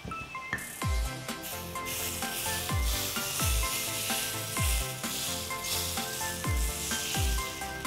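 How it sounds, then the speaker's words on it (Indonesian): Hot oil poured over crushed green chilies, a loud steady crackling sizzle with a rhythmic series of low thumps roughly every second beneath it. "Oke, minyaknya sudah panas, bisa kita langsung siramkan ke cabai hijaunya."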